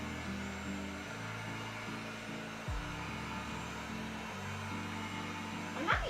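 A heat gun blows steadily during cosplay crafting, giving a loud, even whirring hum with stepped pitch changes as it is worked, then a short louder burst near the end.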